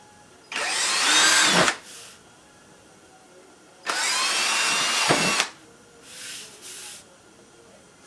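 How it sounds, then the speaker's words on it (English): A power drill bores pilot holes for molding clips in two loud, sustained bursts of about a second each, separated by a pause, with a softer, shorter whir afterward. "Now I'm just going to put these pilot holes in there."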